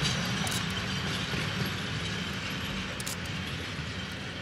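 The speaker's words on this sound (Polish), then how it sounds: "a lokomotywa niemalże mi uciekła" A locomotive hauls a string of wagons past, a steady rumbling roll with faint clanks of the cars, moderately loud and continuous without speech.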